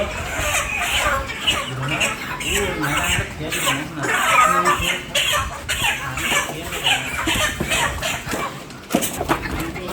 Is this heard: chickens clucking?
yes